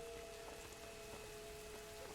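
Rain begins falling in the video game A Plague Tale: Innocence, a steady faint hiss of drops spread evenly across the whole stretch, with a quiet tonal hum underneath and no voices.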